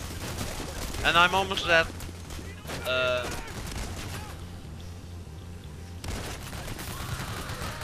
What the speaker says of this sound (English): I give you covering fire.